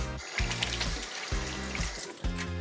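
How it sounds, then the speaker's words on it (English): Tap water runs into a kitchen sink while hands are washed during meatloaf preparation, a steady close splashing trickle with a low, pulsing hum underneath. "Always make sure to wash your hands."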